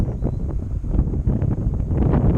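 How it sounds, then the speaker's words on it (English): Strong wind buffets the microphone at a pond in loud, continuous gusts, a rough low roar with no other clear sounds. "Alright, it's really windy."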